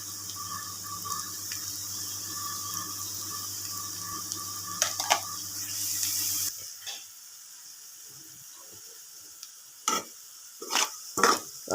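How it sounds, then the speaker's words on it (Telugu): Cumin seeds sizzle in a pan of frying onions, with a steady frying hiss, then quieter stretches broken by a few sharp clinks and scrapes of a spoon stirring. "మధ్యలో కొంచెం లైట్గా జీలకర్ర వేసుకుందామండి."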